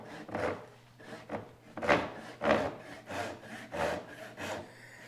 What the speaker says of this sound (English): So this is a rip tooth medium tenon, and this is going to take a while